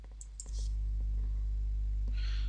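Computer mouse clicking while placing sprinklers in ceiling-tile design software: a few sharp, quick clicks close by at the start, then a steady low hum continues underneath.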